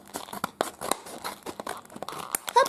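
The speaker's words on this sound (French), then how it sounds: "On va quand même faire avec les ciseaux voir ce que ça change." Scissors cutting open Tsum Tsum booster pack packaging, close-up rapid snips mixed with crinkling and tearing of the plastic wrapper, a brisk run of sharp bursts with no talking.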